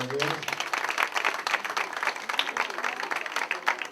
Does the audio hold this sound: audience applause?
yes